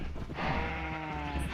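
A Minecraft Java Edition 1.14.4 sheep gives one close, clear bleat, quavering for about a second against a quiet game background.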